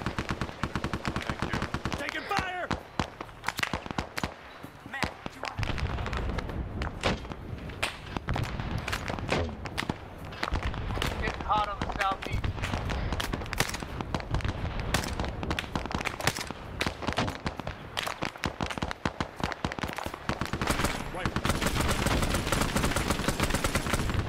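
Machine gun fire in SOG, a Vietnam War video game, loud sustained automatic bursts filling the whole stretch with dense rapid shots, a brief shout now and then underneath.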